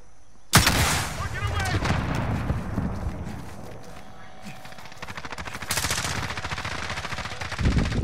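Rapid automatic gunfire bursts in a Call of Duty Warzone match, loud and sustained with dense rattling volleys, a brief lull midway and a renewed burst near the end.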